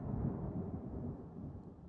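Thunder from a storm that is still some way off rolls as a low, steady rumble, muffled and distant, with no voices over it.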